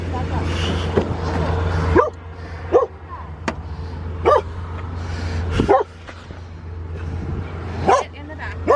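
Several dogs bark and yip in short bursts inside a car, loud and close over steady engine rumble, with people talking between the barks.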